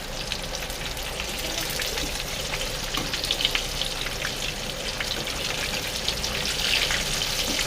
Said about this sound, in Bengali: এখনও কিছুটা ভাজা হচ্ছে